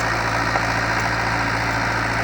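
An excavator crane's diesel engine runs at high revs while climbing onto a canal bank, a steady close droning hum with constant low vibration and no pauses.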